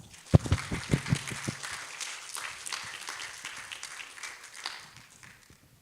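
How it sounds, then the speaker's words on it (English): Audience applause at a public lecture on sustainable tourist behaviour: a few sharp, loud claps open the burst, then thinner scattered clapping fades out over several seconds, with no voices. "Please once again welcome them to this public lecture. Please give them applause."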